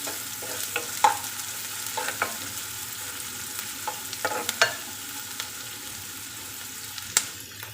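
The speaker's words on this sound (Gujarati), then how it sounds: "ઝીણી કટ કરેલી ડુંગળી ને થોડી ગોલ્ડન બ્રાઉન થાય ત્યાં સુધી એને થવા દઈશું" Finely chopped onion frying in a pan until golden brown: a soft, steady sizzle close by, broken by scattered clicks and scrapes of stirring, with no talking.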